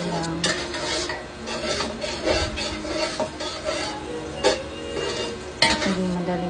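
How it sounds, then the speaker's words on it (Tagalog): A spoon stirs lugaw, Filipino rice porridge, in a cooking pot, giving close, continuous rasping and scraping strokes against the pot with a few sharper knocks. "Halo lang."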